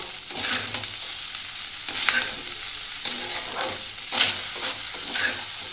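Spiced fried rice being stirred and fried in a pan, with steady sizzling under repeated scraping stirs of a spatula at a close, even level and no talk.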